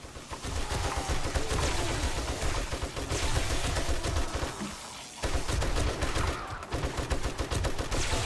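Rapid, dense gunfire in the survival game 7 Days to Die rattles in continuous bursts, close and loud, with a brief pause midway before the shooting resumes.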